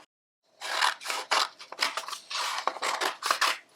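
Scissors cut through several layers of colored paper at once to shape feathers for a pinecone turkey craft, a close run of crisp, rhythmic snipping and rustling with no voice.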